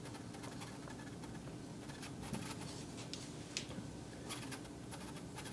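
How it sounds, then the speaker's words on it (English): Pen writing down notes during a lecture on trade policy and tariffs, a faint steady scratching buried under constant background hiss with a few slightly louder strokes. "So maybe we should write that down"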